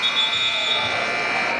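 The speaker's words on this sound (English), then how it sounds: "There's your final buzzer." The final buzzer sounds at a Class 4A high school basketball game between Riverton and Rock Springs. It is a loud, steady, harsh electronic tone held for the whole moment over gym crowd noise.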